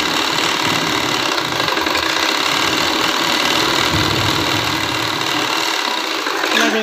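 Domestic sewing machine stitching a blouse, running steadily and loudly through the whole stretch with a continuous mechanical whir and rapid needle rattle, no voices.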